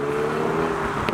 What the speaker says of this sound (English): An Alpina.